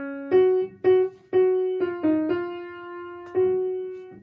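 A slow fugue subject melody: a line of sustained, bright-toned notes, seven or so in succession with clear attacks, played alone at a measured pace.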